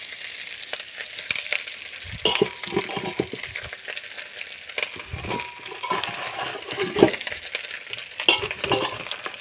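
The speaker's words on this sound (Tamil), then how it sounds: "கருவேப்பிலை போட்டுக்கலாம் போடும்போது கொஞ்சம் பார்த்து போடுங்க மேலாவது அடிச்சிட போகுது" Fresh curry leaves dropped into hot oil for a Tamil thuvaiyal, crackling and spitting in bursts of sharp pops over a steady fry, close and fairly loud, with occasional clinks of a utensil.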